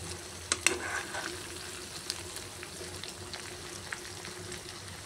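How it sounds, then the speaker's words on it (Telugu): Stuffed brinjals (gutti vankaya) fry in a pan with a steady, fairly quiet sizzle. A few sharp clinks and stirring noises stand out near the start, and no one speaks. "చూడండి ఎంత బాగా వేగుతుందో"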